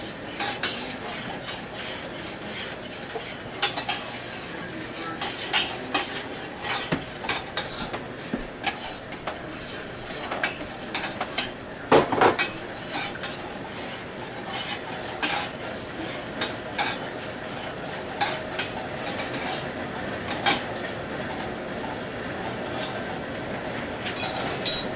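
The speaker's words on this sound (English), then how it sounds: "Stir until it gets nice and until it gets thick, like a gravy." A spoon scrapes and clatters steadily around a pan as thickening gravy is kept moving, with soft sizzling underneath and constant rhythmic stirring from start to end.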